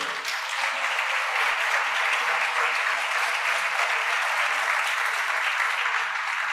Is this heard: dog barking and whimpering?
no